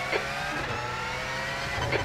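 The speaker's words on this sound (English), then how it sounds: "Car approaching. Watch your mirrors." Race car in the iRacing sim at VIR, a Nissan GTP ZXT setting, with a steady loud engine drone and tire noise, rising slightly as another car closes in and passes.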